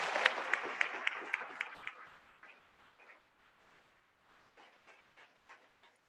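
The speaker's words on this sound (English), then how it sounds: "Please join me in a round of applause to thank all the talented in-house artisans for participating in this labor of love." An audience at the 2019 Yavapai College Verde Valley Campus commencement ceremony applauds. The clapping starts brisk and lively with sharp individual claps, then thins out into quieter, scattered claps that trail off.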